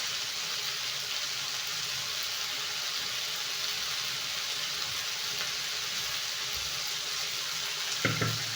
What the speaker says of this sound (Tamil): இந்த காய் வேகிறதுக்கு கொஞ்சம் தண்ணி ஊற்றிக்கலாங்க.